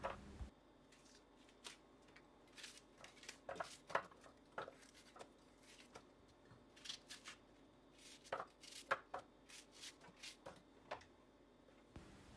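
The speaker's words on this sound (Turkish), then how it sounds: "Soğanlarımı küçük olacak şekilde doğruyorum ve mutfak robotunun içine alıyorum." Onions being chopped into small pieces with a knife on a board, producing a sparse, irregular series of sharp crisp taps, close up and fairly quiet, with no talking.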